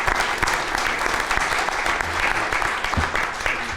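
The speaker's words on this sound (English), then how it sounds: "So a big round of applause." Sustained applause from a board of directors meeting audience, steady dense clapping throughout with faint background voices.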